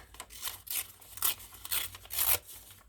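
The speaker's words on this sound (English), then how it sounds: "I think I'm just going to kind of cut this a little bit." Scissors snipping through a page of a very old copy of Jane Eyre, giving several crisp papery cuts in uneven bursts, close up and alone without talk.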